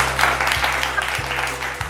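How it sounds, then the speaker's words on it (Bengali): Audience at a family anniversary event in a jewellery store claps together, a steady dense patter of hands filling the room for a couple of seconds, with a low hum underneath. "প্লিজ কংগ্রাচুলেশন সবাই মিলে হাততালি।"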